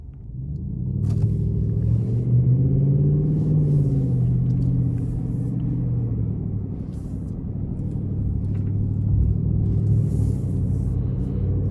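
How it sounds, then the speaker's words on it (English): A 2024 Ford F-150 XLT FX4 with a 5-liter V8 and 10-speed transmission driving on the road, heard from the cabin as a steady, loud low rumble with engine pitch rising and easing during acceleration. "we're gonna go ahead and take this 2024 F-150 XLT out on the road for a test drive"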